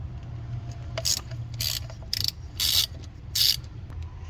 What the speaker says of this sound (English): using a 3/8 socket, we'll loosen up the thermostat housing.